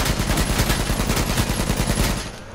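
Rapid automatic AK rifle fire in the battle royale video game H1Z1, a loud, dense burst of closely spaced shots running nearly the whole time before cutting off at the end.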